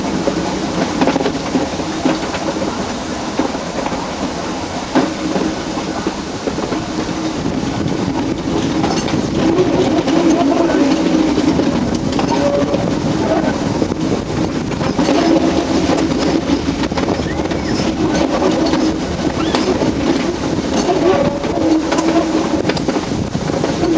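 An Ooty mountain railway train grinds steadily along a rack and pinion section, a loud, continuous rumble of wheels and carriages with faint metallic clatter throughout.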